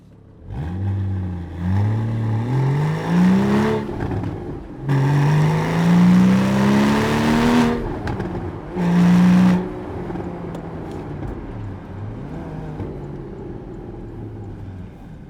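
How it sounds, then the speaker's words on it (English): Porsche 981 Cayman S 3.4 exhaust revving repeatedly, engine pitch climbing and dropping in loud bursts, then settling to a rumbling idle. "aggressive nature of the sound that you're getting from the exhaust system"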